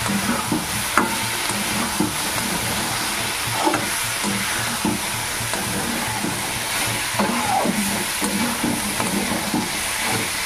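Shrimp cooking in spiced masala sizzle and fry steadily in a pan, with a spoon scraping and stirring in occasional knocks, close and continuous.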